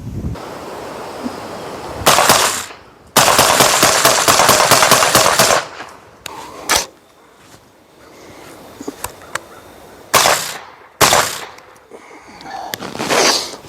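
Aero Precision AR15 M4E1 short-barreled rifle with an 11.3-inch barrel fired outdoors with a red dot sight, loud sharp shots in bursts and rapid strings, separated by gaps of wind and quiet.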